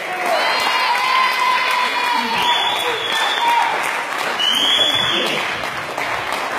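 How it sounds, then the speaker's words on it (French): An audience at a live show claps and cheers, a dense sustained wave of applause with shouts and whistles rising above it, loud and close throughout. "On applaudit s'il vous plaît, on encourage"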